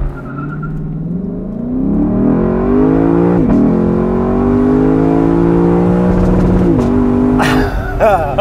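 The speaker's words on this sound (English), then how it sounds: "Lexus LC500 convertible without launch control." A 2021 Lexus LC500 convertible with a 5-liter V8 launching without launch control, the engine roaring loud and close as it climbs through rising revs with brief shift breaks.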